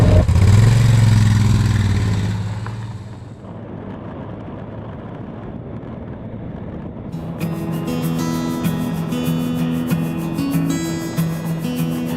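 A vehicle drives along the old Great South Road, built in the 1860s, with a loud roar of engine and road noise at first that settles into a steady, quieter drone without talk.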